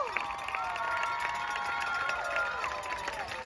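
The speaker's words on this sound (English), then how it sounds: "Let's hear one more round of applause for all of these wonderful performers from today." Crowd cheering and applause after a high school marching band competition outdoors, a distant, sustained roar of voices and clapping with a whistle-like tone sweeping through.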